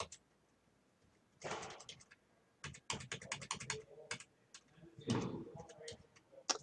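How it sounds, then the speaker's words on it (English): Computer keyboard arrow keys pressed while moving between cells in an Excel spreadsheet: bursts of quick close clicks and taps in irregular clusters, with a voice speaking over them. "If I use my arrow keys, I can go down and I can go over."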